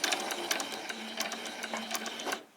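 A sewing machine runs a short burst of back stitches along a seam on summer shorts, a fast rattling whir with rapid needle clicks, close and steady before stopping abruptly, with no talk.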